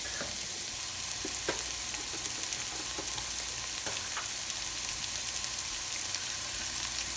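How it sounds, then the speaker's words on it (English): Chopped vegetables and fresh minced garlic sizzle steadily in a hot soup pot, a continuous close frying hiss broken by occasional stirring clinks and small pops, with no talking. "we're gonna cook our veggies down a little, and we're gonna add our minced garlic"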